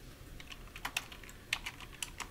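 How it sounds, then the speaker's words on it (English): Quiet clicking keystrokes on a computer keyboard while typing a chart title in Excel, several irregular taps spread over about two seconds with no talking. "use the keyboard to type James Harden field goal attempt over years"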